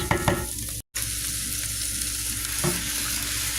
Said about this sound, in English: Then I'm just going to start adding the greens right to this.